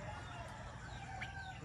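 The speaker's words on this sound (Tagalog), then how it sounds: "Yan, manok ni Papa Joe." A chicken clucks and crows faintly at a distance over steady low background rumble, the call brief and partly masked, on a small family farm beside a village store.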